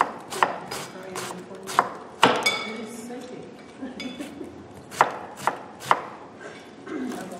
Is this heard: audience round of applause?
no